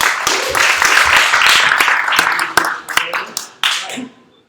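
Audience applause at a tech event in San Francisco, a dense wash of clapping that fades out near the end, with a few louder isolated claps and some crowd voices mixed in.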